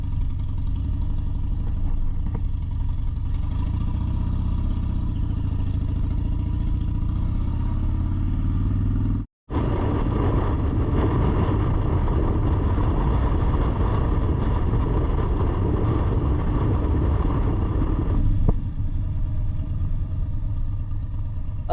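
A motorcycle rides along the road as its engine drones loud and steady throughout, cutting out for a split second partway before resuming with a rougher, busier rumble.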